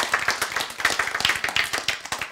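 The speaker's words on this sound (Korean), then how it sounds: "박수." Audience applause at a Bible-and-science lecture: many hands clapping in a dense, steady rhythm for a couple of seconds, fairly loud and close, with no talking over it.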